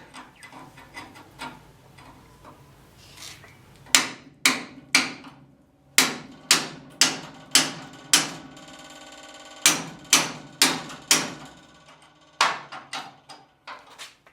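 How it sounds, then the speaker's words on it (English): Sharp metallic hammer blows on a punch, knocking parts out of metal on a truck, ring out in quick bursts, several strikes in a row with short pauses, close and clear over quiet background. "you just take a punch and a hammer and knock them the rest of the way out"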